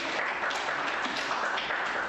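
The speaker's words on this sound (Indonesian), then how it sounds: "Ya, tepuk tangan buat kelompok 1." A small group claps for classmates in a school coaching session, a steady moderate patter of hands filling the room for about two seconds with no talk over it.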